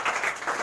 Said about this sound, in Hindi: इसलिए भी ताली बजा लो।